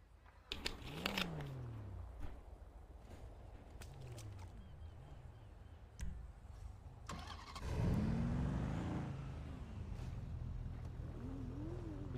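A car engine in a GTA roleplay game: clicks and a starter crank, then the motor catches and rises in pitch, later a deeper surge of revving close by, with no one talking.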